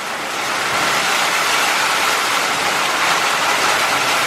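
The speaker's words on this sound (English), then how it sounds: "On the negative note, it is pouring." Heavy rain pouring down onto a flooding street outside a store in Angeles City, Philippines, a loud, dense, continuous hiss and roar, close and steady throughout, with no talk.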